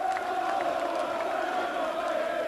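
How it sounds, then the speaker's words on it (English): Loyal Falkirk football supporters at a 1988/89 away match against Forfar Athletic applaud and cheer their players, a steady, somewhat distant crowd noise with scattered claps and shouts throughout. "the players receiving the applause of the loyal Falkirk supporters"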